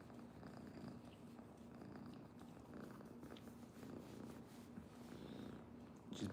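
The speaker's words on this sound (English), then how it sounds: "And she is the sweetest cat ever." A black domestic cat purring steadily and very close, a soft continuous rumbling rhythm that is faint but unbroken, with no talking.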